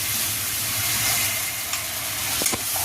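Water poured onto ginger paste in a hot pan sets off a steady, loud sizzle and hiss that fills the whole stretch, with a few sharp spatters and pops near the end.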